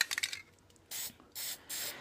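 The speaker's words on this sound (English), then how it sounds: "I'll have some black spray paint land on areas that I don't want it to land" A can of black spray paint hisses in three short, close bursts, each about half a second long, after a few faint rattles and rubs.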